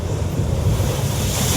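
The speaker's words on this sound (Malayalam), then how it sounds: "ആറാട്ടുപുഴയിൽ കടൽ കയറ്റം ശക്തമായതോടെ തീരദേശ റോഡിലേക്ക് തിരമാലകൾ അടിച്ചു കയറുകയാണ്" At Arattupuzha, strong sea surges drive waves onto the coastal road: a loud, continuous roar of surf close by, rumbling with wind buffeting and no voices.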